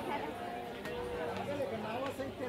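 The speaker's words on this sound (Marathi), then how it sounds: "ही आहे आळंदीच्या प्रवेशद्वाराच्या बाहेरील गर्दी" Crowd gathered outside the entrance of the Alandi temple, a steady murmur of many voices and chatter filling the space at close range.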